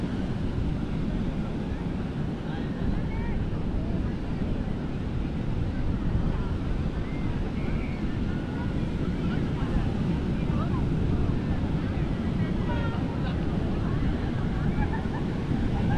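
Strong wind roars steadily at Sagareshwar beach, a constant low buffeting across the microphone with faint surf beneath, loud and unbroken throughout.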